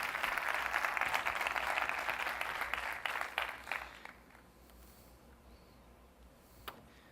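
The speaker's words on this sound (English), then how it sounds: "Javier, big round of applause, please." Conference audience gives a big round of applause during a CARTO location-data presentation, dense and loud at first, then thinning out and fading to quiet room tone with one last stray clap.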